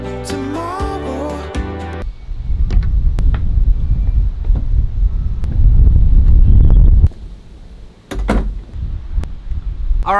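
Strong wind outdoors buffets the microphone in heavy, continuous low rumbling gusts that ease briefly near the end, after a short burst of music at the start.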